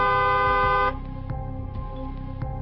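A car horn sounds in a long steady honk for almost a second, then settles into a lower continuous tone with soft periodic clicks, loud and close with no talk over it.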